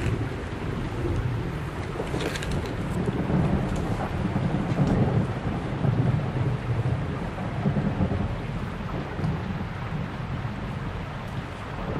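A thunderstorm with steady rain and low rumbling thunder rolling through, a dense continuous wash of rain and wind with the rumble swelling midway, no voices.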